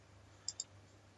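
Two quick, faint computer mouse clicks in close succession over a quiet, steady background hum.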